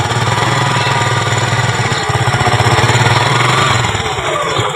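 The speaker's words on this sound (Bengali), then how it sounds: "তো আপনারা বাইকটা স্টার্ট দেওয়ার পরে ইঞ্জিনের সামনে যাবেন, একটু পিক আপটা বাড়াবেন।" A used second-hand motorcycle's engine runs close by with a loud, rapid, pulsing putter. The revs swell slightly midway and then ease off, with no talk over it.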